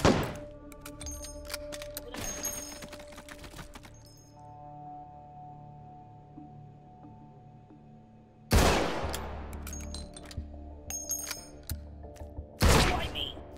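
Gunfire from armor-piercing rounds in the shooting game H3VR: a few loud, sharp shots with long decaying echoes, spaced apart, followed by heavy thumps and clatter, with no talking.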